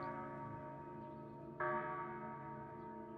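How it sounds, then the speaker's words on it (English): A bell tolls in the video game Crimson Desert, sounding twice with rich ringing overtones; each loud strike decays slowly into a sustained, resonant hum. "The bell has been rung."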